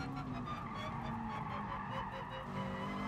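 A race car engine held at peak revs in the GT Sport racing game, a steady, sustained high-pitched drone that stays quiet and constant throughout.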